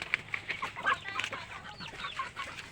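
A pet chicken clucking softly at close range, with a run of short, quick clucks over a faint background and no talking.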